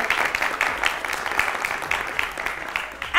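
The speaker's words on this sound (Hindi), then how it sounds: "अपने लिए बजा लो तालियां।" A studio audience on a Pakistani morning TV show applauds a group of young contestants. The clapping is dense and steady, with individual claps audible throughout and no voices over it.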